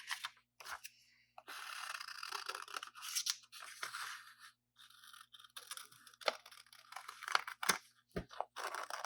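Scissors snip through paper while cutting out a hand-drawn design, quiet close-up crisp cuts and scraping in irregular bursts with short pauses.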